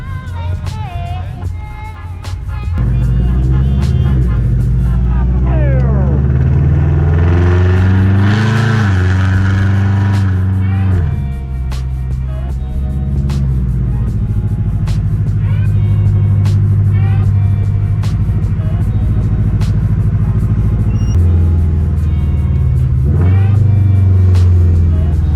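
A Toyota 86 (FRS/BRZ) engine tuned for pops and bangs idles with a deep rumble, then revs up and settles back several times, loud and close.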